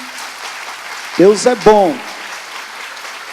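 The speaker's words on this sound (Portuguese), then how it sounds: "aplauda ao Senhor, sim" A church congregation claps in a steady, diffuse wash, and a single voice speaks briefly over it.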